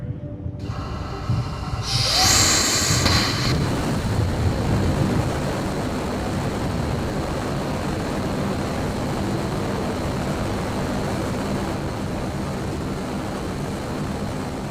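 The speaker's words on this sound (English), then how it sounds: "This is a Raptor firing." SpaceX Raptor rocket engine test firing: a sudden ignition burst followed by a continuous broadband roar, loud and steady for over ten seconds, heard alone without talk.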